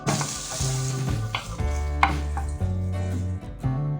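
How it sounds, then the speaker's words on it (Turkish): Eggplant frying in oil in a pan, loud close sizzling and crackling with clattering stirring strokes throughout, alone without talk. "Patlıcanlarımız güzelce kızarana kadar kavuracağız burada."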